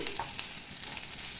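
Ginger and garlic paste frying with onions in a pan, a steady soft sizzle with faint stirring scrapes, close and continuous with no voices.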